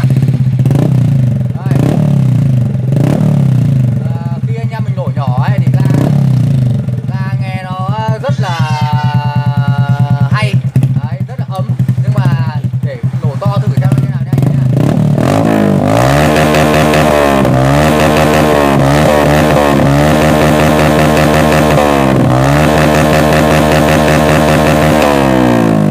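A motorcycle fitted with a LeoVince aftermarket exhaust revs loudly and close, idling roughly and then climbing through sharp throttle blips into a sustained high, raspy roar with rising and falling pitch sweeps.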